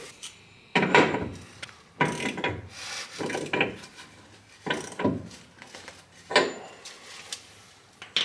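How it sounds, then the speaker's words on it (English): A wrench or breaker bar torques down a 32 mm nut on a Nissan 350Z to press in a solid differential bushing, giving several close, loud bursts of creaking, grinding, ratcheting effort separated by short pauses, with no talking. "So we'll just start torquing down on this side and it should start pulling through"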